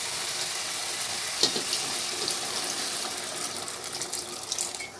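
Boiled chickpea cooking water pours into a pan of chana masala, a steady close rushing splash with faint sizzling underneath, running continuously and easing slightly toward the end.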